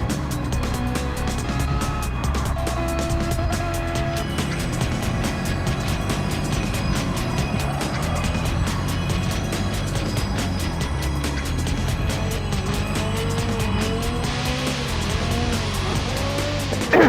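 Race cars, among them a Corvette Miata, lap a circuit in a Challenge Series race. Engines drone continuously and loudly with shifting pitch, and tires squeal now and then under the roar.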